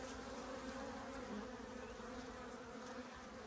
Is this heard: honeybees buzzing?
yes